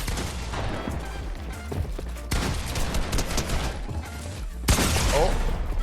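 Gunfire in a Fortnite-style shooter game, with bursts of shots and impacts running through the whole stretch and a louder blast near the end, set among game effects, with a voice talking at times.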